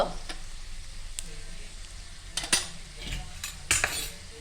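Cumin seeds and asafoetida hitting hot oil in a pan give a soft sizzle, broken by several sharp metallic clinks of a spoon against the pan spread across the clip; no one speaks.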